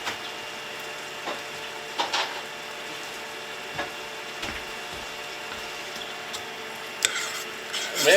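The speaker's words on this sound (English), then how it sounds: "Mix, stir a little bit." Garlic stirred in a hot pan for Cajun red beans, a steady soft sizzle with repeated spoon scrapes and knocks against the pan, a clatter near the end.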